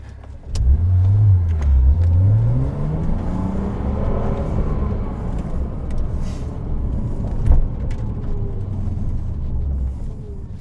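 Porsche Cayman 987 driving an autosolo run at Goodwood, its engine note rising and falling through repeated revs and gear changes, loud and close throughout with no talking.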